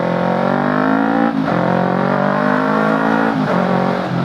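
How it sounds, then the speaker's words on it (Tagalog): Yamaha YZF-R3 motorcycle engine revving loud and close, with a steady harmonic drone and two brief dips at throttle changes, no talking. "Mas gusto ko kasi yung may tunog or may backfire yung motor ko"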